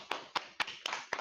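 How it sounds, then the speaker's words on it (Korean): Five evenly spaced hand claps ring out sharply at a steady moderate tempo, brief applause from a single person during an online chat, with no talk over them. "박수."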